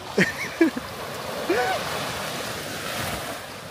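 Ocean waves wash onto a sandy beach on Bukay Island, Davao Oriental, a steady surf hiss with wind noise; a few brief voices or calls rise over it early on.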